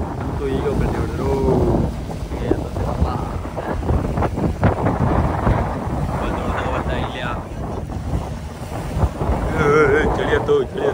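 Strong wind at sea buffets the microphone on a fishing boat, a continuous loud roar and rumble throughout, with voices talking faintly underneath.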